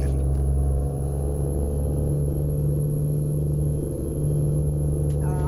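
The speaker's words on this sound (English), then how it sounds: "I do like my Jake brakes to have a little bit of meaty sound to them, so we are running a Cummins N14." A Cummins N14 truck engine in American Truck Simulator drones steadily at idle or low cruise, a deep continuous rumble with a strong low hum that holds level throughout.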